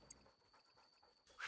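A hunting dog in a hunting video game pants in quick, rhythmic short breaths, about five soft puffs close by, faint, with a thin steady tone beneath.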